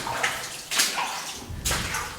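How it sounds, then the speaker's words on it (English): Water runs and splashes down one side of the Ottawa mine's level 8 tunnel, a steady, close wash with a couple of louder surges. "there's a fair amount of water still running down the left side of the mine"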